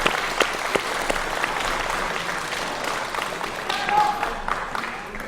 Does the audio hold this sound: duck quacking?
no